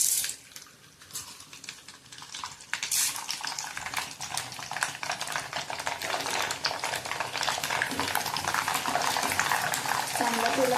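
Nylon sabudana (sago) deep-frying in oil as it puffs up, a bubbling sizzle that starts quieter and swells into a loud, continuous crackling rush.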